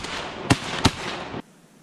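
Two sharp shotgun blasts about a third of a second apart, loud and close, fired while hunting wood ducks in the snow, over steady outdoor noise that cuts off abruptly.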